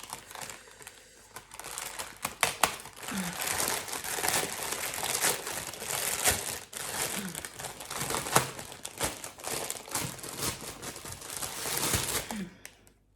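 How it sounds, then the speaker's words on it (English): A plastic bag holding a yarn order is opened and handled, producing loud, continuous crinkling and crackling close by for the whole stretch, with brief pauses and no clear talking. "I'm sorry for the crinkling sounds"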